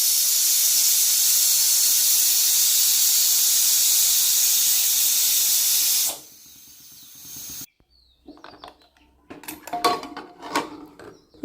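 A pressure cooker of dal and chicken on a gas stove gives off a loud, steady hiss of escaping steam for about six seconds. It then cuts off abruptly, followed by a brief quiet stretch and some clattering of pots and utensils.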